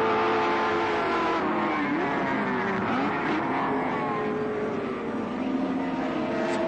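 Touring cars race at Oran Park in the 1983 Australian Touring Car Championship, with Moffat and Brock running close. Engines drone continuously from a distance, swelling and shifting pitch as cars pass, and a commentator talks over them.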